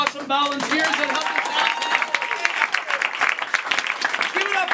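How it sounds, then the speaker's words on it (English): Audience applause for volunteers at a comedy club show, a dense wash of clapping filling the room, with cheering voices and whoops rising over it throughout. "applause for all the awesome volunteers that helped"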